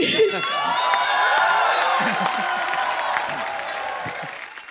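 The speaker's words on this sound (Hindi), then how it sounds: "जोरदार तालियां आ जाए" A studio audience on The Kapil Sharma Show comedy show bursts into loud applause and cheering, with whoops and shouts mixed into the clapping, before it slowly thins out.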